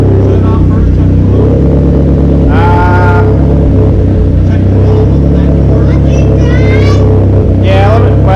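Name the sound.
big turbo SRT car engine running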